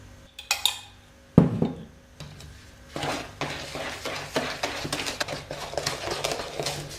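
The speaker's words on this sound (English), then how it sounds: "Stir that in." Brownie batter is stirred in a bowl, with a few clinks and knocks of a utensil at first, then a quick run of rhythmic scraping and tapping against the bowl, close and fairly loud.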